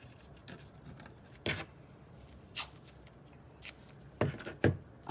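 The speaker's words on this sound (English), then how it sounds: "So let's just tape" Strips of tape being torn and pressed onto a copper pot painting, with a few short, sharp ripping and tapping bursts spaced apart over a quiet background.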